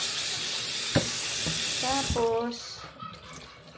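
Tap water running over washed chicken gizzards in a kitchen sink, a continuous rushing splash that thins out and fades toward the end, with a few clinks and a brief voice.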